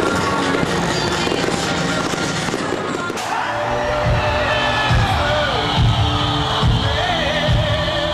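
Festive New Year fireworks crackle and boom in a dense, continuous barrage over a celebrating crowd in Paris, loud throughout with cheering and crowd noise mixed in.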